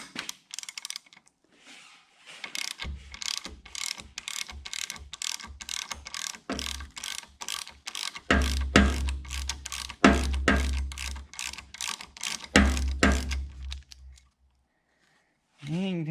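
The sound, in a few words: ratchet removing thermostat elbow bolts on 66 engine head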